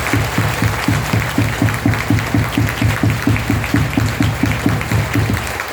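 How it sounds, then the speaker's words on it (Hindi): Rhythmic, steady clapping from an audience at an RCM meeting in Jamshedpur, loud and close, with no voices over it. "के लिए हम मिलकर जोरदार तालियां बजाएं"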